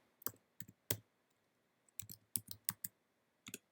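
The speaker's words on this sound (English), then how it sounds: "So type in the password, hit OK." Keys on a computer keyboard are struck in short bursts while a password is typed: a few sharp, close clicks, a pause, then a quicker cluster of taps and one last keystroke, all heard over quiet room tone.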